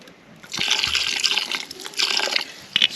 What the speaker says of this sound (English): I want to add in a little bit more liquid, and that's red wine.